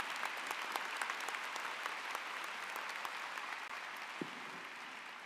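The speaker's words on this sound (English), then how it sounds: "Now please join me in a round of applause to congratulate them" An audience at a 2024 psychology commencement ceremony applauds the graduates, sustained, even clapping heard from a distance across a large hall, with a few sharper individual claps standing out.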